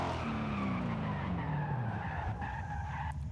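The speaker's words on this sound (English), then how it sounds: "As soon as we hit 200, we're just gonna full brake." Hard full braking from high speed in Forza Horizon 5, tires skidding and squealing loudly with a steadily falling pitch over a constant engine and road roar, no talk over it.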